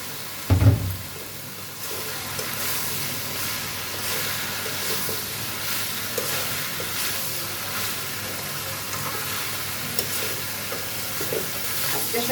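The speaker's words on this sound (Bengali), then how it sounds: "এখন সেদ্ধ করে রাখা কাঁঠালগুলো দিয়ে দিই।" Boiled young jackfruit stir-fried with spices in a hot pan, giving a steady close sizzle and hiss with scraping stir strokes, one louder clatter at the start.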